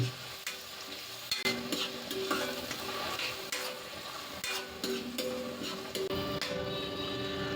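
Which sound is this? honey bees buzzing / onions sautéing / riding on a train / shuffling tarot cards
onions sautéing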